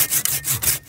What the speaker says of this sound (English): This is a perfect one for us to cut down and make one of our poles out of.